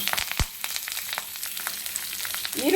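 Curry leaves and onion frying in cooking oil on a hot pan, producing a steady, close crackle and sizzle with small pops and a sharp spatter near the start.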